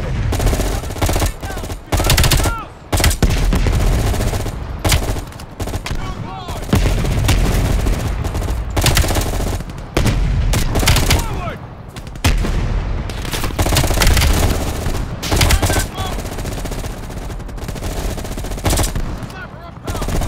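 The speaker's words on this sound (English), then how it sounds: "you followed the road right toward the sound of gunfire. Seeing a firefight, you readied your M16." Sustained bursts of automatic gunfire crackle throughout a loud firefight in a Vietnam War video game on PS5, with rapid volleys and occasional heavier booms layered densely over one another.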